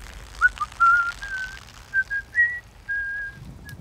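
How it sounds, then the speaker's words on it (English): In a film scene a man whistles a song while taking a piss, a clear solo whistled melody of several sliding and held notes over faint background noise, no talking. "he whistles this song, her favorite song, as he takes a piss"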